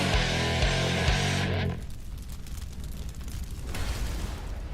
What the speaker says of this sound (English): I don't like the cannon.